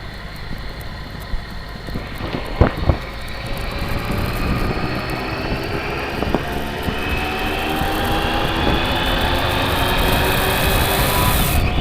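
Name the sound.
motorcycle riding on road with Pirelli Scorpion Rally STR tyres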